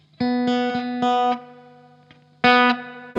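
Clean electric guitar tone through a spring reverb setting: several sharp strummed chords cut off short, then a ringing reverb tail, a short pause and a final strum, played alone.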